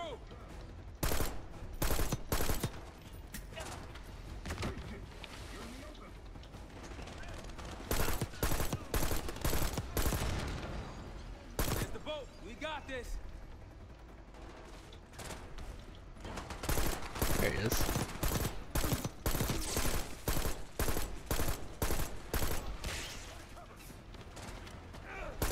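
A three-round burst rifle in the video game Black Ops 6 fires in repeated sharp, loud bursts mixed with other combat gunfire, with voices talking in between.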